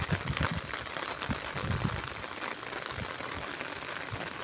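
Rain falling beside the Tarlac River, a steady faint hiss of drops with soft irregular patters close by, no voices.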